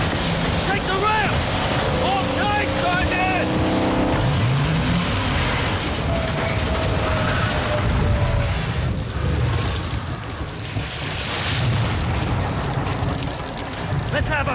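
Ship's engines rumble steadily aboard a vessel in Call of Duty MW2, a loud continuous low drone mixed with wind and rushing water, with voices talking over it throughout.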